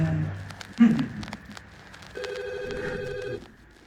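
A telephone rings with a tonal electronic trill, heard close with some background clatter around it.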